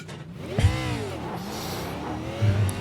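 A race car engine in the iRacing game, an O'Reilly B car at Martinsville, revs hard with rising and falling pitch sweeps, a steady loud drone that swells again near the end, with no voices.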